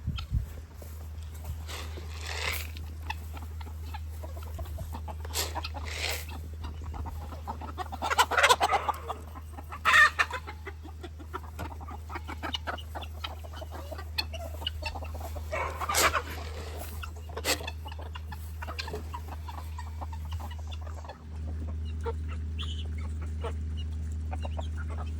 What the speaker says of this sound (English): We gotta feed all the chickens.